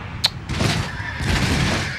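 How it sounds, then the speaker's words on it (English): Cannon fire in the Empire Total War video game: a sharp crack, then heavy booming volleys and rumbling impacts, fairly close and loud, with no talk. "Incoming cannon fire."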